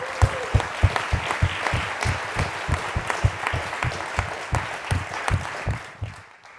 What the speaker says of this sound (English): if you could just give a round of applause for all the volunteers